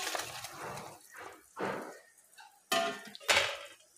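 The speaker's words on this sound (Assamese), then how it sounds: "এতিয়া ইয়াতে মই ভাজি থোৱা মাছখিনি দি দিম" Fried koi fish pieces drop into a simmering pot with mukunda lata greens, a few separate splashes and clinks of metal utensils against the pot, each short and fairly close, with quiet gaps between.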